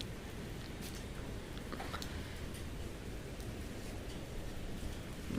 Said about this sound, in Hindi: ये देखना आज भी बारिश लगी हुई है